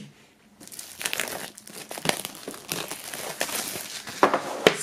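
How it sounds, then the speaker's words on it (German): Plastic wrap being peeled off a small, shiny metal CD box, a loud close crinkling and crackling that starts after a short silence and carries on in uneven bursts with sharp crackles. "Wir werden als erstes mal die Folie abmachen und dann schauen wir uns das Ganze im Detail an."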